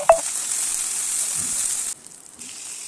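Ginger paste dropped into hot oil for a Bengali fish-head lentil dish, opening with a sharp hit and then a loud, even hiss that drops off abruptly to a quieter sizzle.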